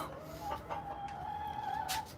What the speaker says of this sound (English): Oh, these are my chickens.